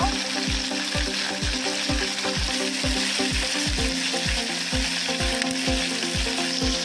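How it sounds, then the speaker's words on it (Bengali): Potatoes and green banana fry in a pan with a steady, close sizzle, punctuated by evenly spaced knocking taps of a stirring utensil against the pan. "আমাদের আলু আর কাঁচা কলা প্রায় ভাজা হয়ে গিয়েছে।"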